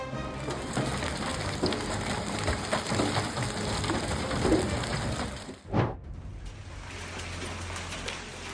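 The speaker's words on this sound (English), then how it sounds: "Hail suddenly occurred in West Virginia" Hail pelting down during a storm in West Virginia, a dense, continuous clatter of stones striking surfaces that breaks off abruptly near the end before a quieter patter resumes.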